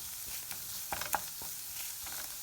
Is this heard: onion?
yes